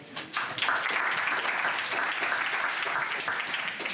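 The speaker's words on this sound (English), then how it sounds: "So let's give him a round of applause." An audience at a career panel breaks into steady applause, with many hands clapping together in a dense, sustained wash of sound that carries on to the end.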